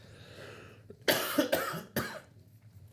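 A few sharp coughs in quick succession, close and fairly loud, following a quiet, hushed moment; no talking.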